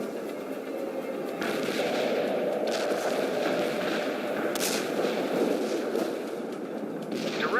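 Gunfire and explosions in the real-time strategy game World in Conflict, a dense rumbling battle bed with scattered sharp reports and blasts, steady and fairly loud.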